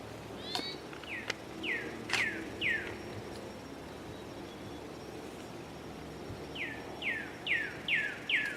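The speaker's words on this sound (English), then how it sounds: "The songs of field sparrows have been ubiquitous in our fields" Field sparrow song rings out in open fields, a series of clear down-slurred whistled notes coming in quick succession, first one run and then another after a pause, moderately near over a quiet background with a few sharp clicks.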